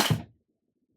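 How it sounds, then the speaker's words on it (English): Scissors toppling over in a pot on a crafting table, a single short close clatter lasting a fraction of a second, then near silence. "My scissors just fell over."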